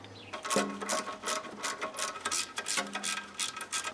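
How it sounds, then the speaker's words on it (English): Ratchet wrench working a gearbox bolt on a Toyota MR2 during a shifter upgrade, a close series of rapid clicking bursts in quick back-and-forth strokes, no talk. "Found the best way to get into this bolt down here is with one of these ratchet wrenches"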